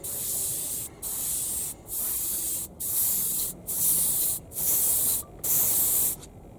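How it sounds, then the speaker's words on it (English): An Iwata Custom Micron CMB airbrush sprays fine lines in seven short, even hissing bursts separated by brief pauses, close and clear with a faint compressor hum underneath. "we're able to get some super fine lines with this airbrush effortlessly."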